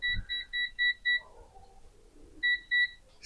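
A digital thermometer alarm on a smoker beeps in a steady series of five short high-pitched tones, pauses with faint handling noise, then beeps twice more, close and clear.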